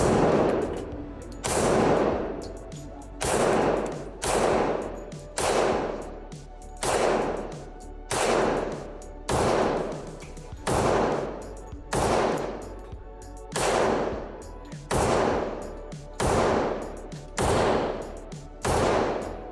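A Glock 21 pistol fitted with a KM Tactical extended magazine fires at a range, with about eleven sharp, loud reports spaced evenly roughly every one and a half seconds, each ringing out with a short decay.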